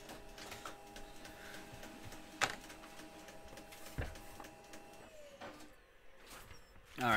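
An inkjet-style printer running through a printout, with steady mechanical whirring, repeated clicks and sharp carriage knocks, then a louder feed burst at the end; fairly close and without talk.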